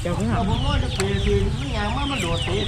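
A rooster clucking and calling close by in a rural yard, with several rising and falling vocal bursts layered over a busy background. People talk at the same time.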